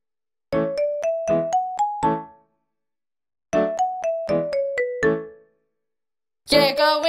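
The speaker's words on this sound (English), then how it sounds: "The clock struck one." A clock's bell chimes out two short runs of bright, ringing tones separated by a pause, then a louder burst of chiming begins at the end.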